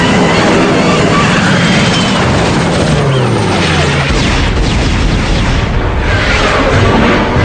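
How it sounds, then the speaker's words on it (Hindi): A cartoon mega missile launches and explodes in a loud, dense roaring blast of broadband rumble that fills the whole moment without pause, with a descending whoosh tone early on. "मेगा मिसाइल लॉन्च करो।"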